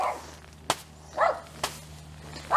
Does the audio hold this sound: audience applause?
no